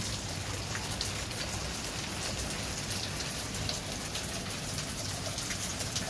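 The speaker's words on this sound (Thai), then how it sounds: "ไหลไม่หยุดเลยครับผม" Water leaking from an upstairs unit, flowing nonstop and splashing down like heavy rain: a dense, constant patter and hiss close by, unbroken throughout, with a faint pigeon coo in the background.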